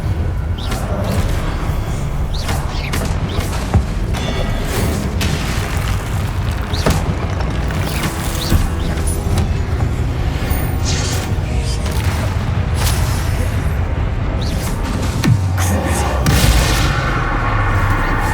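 Combat spells from the Hogwarts Legacy video game fire off in a dense, loud, continuous barrage of booms, blasts and crackling impacts with no pauses.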